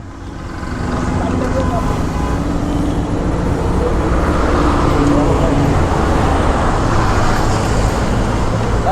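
A Honda CD 80 motorcycle ridden through traffic, a loud continuous engine and road rush with wind noise, steady from start to end, and a voice talking faintly over it.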